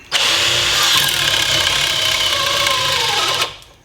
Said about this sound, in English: we're just gonna go with fourth gear and see what happens